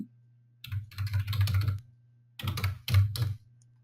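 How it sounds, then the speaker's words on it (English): Computer keyboard typing as a company name is entered, with rapid key clicks in two bursts separated by a short pause, close and clear with no talking. "I'm just going to type in my company name"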